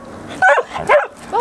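A dog barks close by in three quick, loud bursts with high yipping, whining edges, separated by short pauses over faint background noise.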